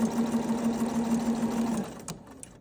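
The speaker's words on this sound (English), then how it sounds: "I'm going to lower my presser foot, and I'm going to continue my edge stitch." A Bernina 740 sewing machine edgestitching a skirt hums in a fast, steady run of stitches up close, then stops abruptly, leaving a couple of small clicks.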